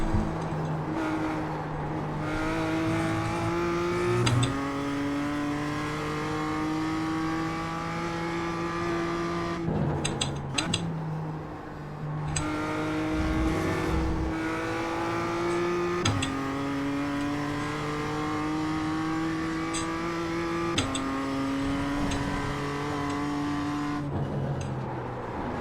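The BMW M2 CSR race car in iRacing, driving Oulton Park, has a loud, steady engine that climbs through the revs again and again, with a short drop at each gearshift. The engine runs without a break, and no one speaks.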